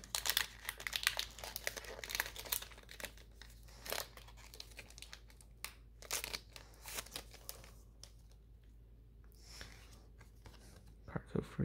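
A Pokemon Shining Fates booster pack with Charizard art is torn open, its foil wrapper crinkling and ripping in close, sharp bursts that come and go at an uneven pace, fading into quieter card handling toward the end.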